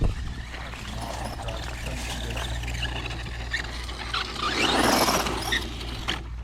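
A Kyosho Outlaw Rampage Pro RC car runs over gravel, grass and sand, its drivetrain giving a continuous high squeal over a loud, rough motor roar that swells toward the end.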